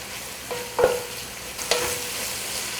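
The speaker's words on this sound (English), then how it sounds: "So you need to constantly stir the onion or it will burn." Onion fries in oil for a chicken biryani, a constant soft sizzle broken by two distinct scrapes of a spoon stirring against the pan, close by with no speech.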